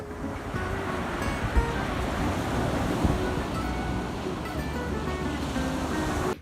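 Ocean surf rolls in a steady, continuous wash of breaking waves with a light rush of wind over it, close and even in loudness from start to finish.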